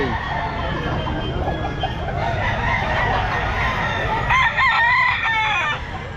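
A Gilmore gamefowl rooster crows loudly and nearby at a busy pet market, its long call rising over a steady background of crowd noise and other fowl.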